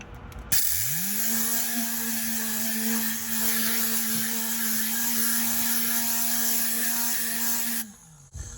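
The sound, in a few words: Tornador tool spraying disinfectant on vehicle upholstery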